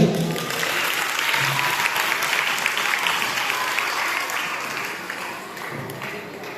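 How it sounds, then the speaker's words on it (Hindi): Sustained applause from an audience at a taluka-level school quiz competition in Bhadgaon, a dense even wash of many hands clapping for over six seconds that eases slightly toward the end. "खामोशी से आप इनकी हौसला अफजाई कीजिए और तालियां बजाते रहिए"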